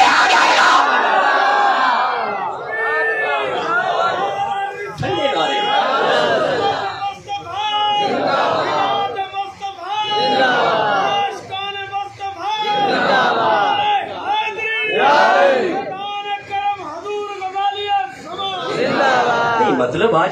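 A large religious gathering at a sermon in Gujranwala, a crowd chanting slogans in loud repeated bursts, many voices rising and falling together in a steady rhythmic call-and-response pattern throughout.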